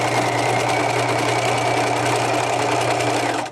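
A sewing machine runs continuously at a fast, even pace, stitching over a bodice seam with a short 1 millimeter stitch length, close and steady until it stops at the end.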